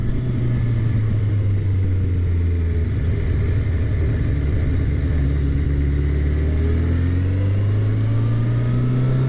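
Kawasaki Concours ZG1000 sport-touring motorcycle pulling hard in second gear, its engine drone rising steadily and staying loud and close throughout, with no talking.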